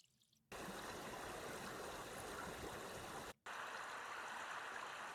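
Flowing stream sound effect with continuous rippling, trickling water, steady and moderately loud, starting after a short quiet moment and briefly cutting out once before resuming.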